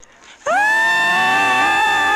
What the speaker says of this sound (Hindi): अचानक से उसे एक जोरदार चीख सुनाई देती है